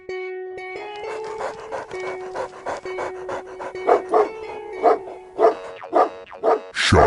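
A dog digging at a patch of farm soil barks repeatedly in an uneven rhythm, with heavy panting between the barks, close and fairly loud, and no one speaking.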